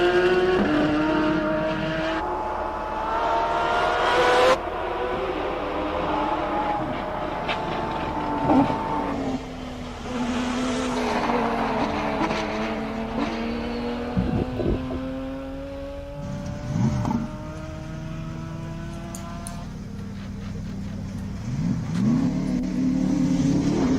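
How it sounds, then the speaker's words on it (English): Race cars at the Simola Hillclimb in King of the Hill roar up the hill one after another, engines revving hard through gear changes, rising and fading as they pass at a distance. "let's enjoy the sounds of these monsters going up the"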